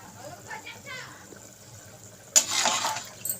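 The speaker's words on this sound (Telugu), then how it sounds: "మూడు లోటాలు వాటర్ పోసుకుందాం" A voice speaks briefly, then water gushes steadily into a pot of rice for biryani for about a second, close and fairly loud.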